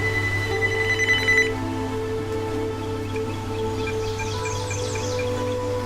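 A telephone rings in a game scene, a bright trilling ring for about a second and a half over a steady low hum, followed by faint chirping tones.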